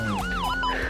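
Ambulance siren wailing in fast rising and falling sweeps, loud and close, with a low steady hum beneath and no voices.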